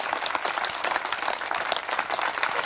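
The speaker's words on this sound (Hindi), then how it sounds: "एक बार जोरदार तालियां माननीय मुख्यमंत्री जी के लिए" Audience applause for the Chief Minister at a gathering, with dense, steady clapping from a modest crowd of hands running unbroken through the whole moment, loud and close, with no talk over it.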